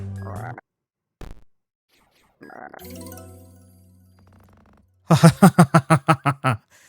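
Cartoonish frog croaks from the video game Draftula, a brief low croak early on followed later by a loud, rapid run of about eight rhythmic croaks, set among other short game sound effects.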